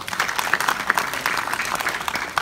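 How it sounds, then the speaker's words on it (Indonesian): Applause from a festival audience at a regional music competition celebrating traditional gong music, a steady mid-level patter of many hands clapping throughout the short stretch, with no voices standing out. "Tepuk tangan loh."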